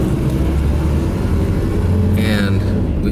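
A small car with newly replaced brake calipers drives on a test drive, with steady loud road rumble and engine drone heard from inside the cabin and no clear talk.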